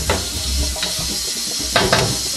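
Finely chopped onion sizzles and hisses in a hot pan for curry, a loud continuous fry with a couple of brief stirring bursts.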